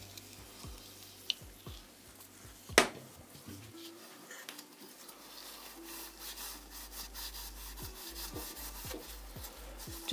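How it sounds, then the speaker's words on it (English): Engine pistons for a Honda VF750F motorcycle scrubbed with Scotch-Brite and WD-40, a soft repeated rubbing and scouring, close and fairly quiet, with occasional light knocks. "So I'm going to get some WD-40, bit of Scotch-Brite, and I'm going to give these a bit of a clean up"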